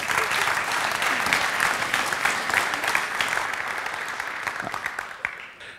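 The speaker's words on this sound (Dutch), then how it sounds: "In ieder geval, hartelijk applaus." An audience at a late-night talk show on cybersurveillance breaks into sustained applause, a dense wash of clapping that stays strong and gradually tapers off toward the end.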